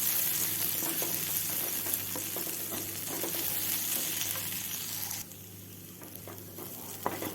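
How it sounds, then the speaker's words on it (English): Roasted coconut and ground spices frying in a pan on low heat for a moth bean curry, a steady close sizzle with scraping stirs that quiets toward the end, ending on one sharp clink. "Keep stirring it while you are frying it."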